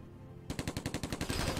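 A sudden burst of rapid automatic gunfire in the video game Silent Storm, about a dozen evenly spaced shots in quick succession, loud and close after a quiet start.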